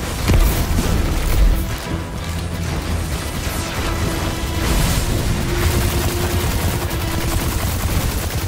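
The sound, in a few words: grenade explosion in Destiny 2 video game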